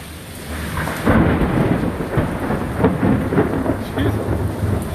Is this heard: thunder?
yes